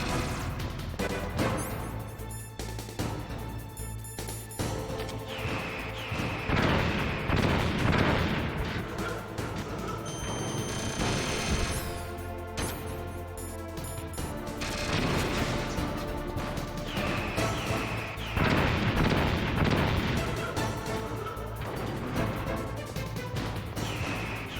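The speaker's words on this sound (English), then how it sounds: "how do you dodge his fucking grenades?" Grenades burst repeatedly in Metal Gear Solid, heavy booms and crashes recurring every few seconds over a dense, loud game soundscape.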